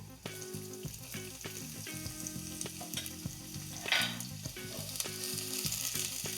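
Red onions fry with garlic in a hot pan, giving a steady close sizzle mixed with repeated scraping and clinking stir strokes, plus a brief louder burst of sizzling midway.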